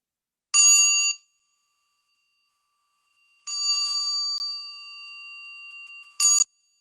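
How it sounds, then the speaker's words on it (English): Mindfulness bell struck three times. The first strike rings out briefly, the second sustains and slowly fades, and the third is short, each clear and bright against silence. "we can start with 3 sounds of the bell"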